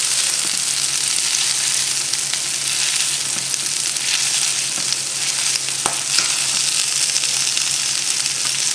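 Goose pieces frying in a pan over medium heat give a loud, steady, close sizzle with a few faint pops and clicks.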